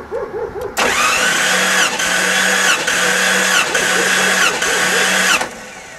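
A 1989 Jeep Cherokee engine cranks over steadily during a wet compression test on cylinder 5, a loud, close, pulsing churn lasting about four and a half seconds before stopping.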